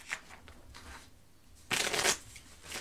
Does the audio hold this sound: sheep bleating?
no